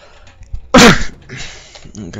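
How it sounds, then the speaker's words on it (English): A single loud, sharp sneeze bursts out close to the microphone, followed by a person talking quietly. "I'm gonna sneeze one last time."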